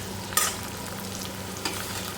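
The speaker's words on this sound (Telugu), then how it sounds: "ఇక్కడైతే ఆయిల్ అండ్ కొంచెం ఒక 2 స్పూన్స్ గీ వేసేసి ఆనియన్స్ని ఫ్రై చేసుకుంటున్నాం" Onions frying in oil with two spoons of ghee for chicken biryani. A steady, soft sizzle runs throughout, broken by two brief scraping stirs, with no voices.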